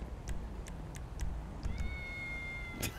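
In a video game, a cat lets out a drawn-out meow that wavers over about a second, preceded by a few sharp ticks and clicks against a muffled background rumble.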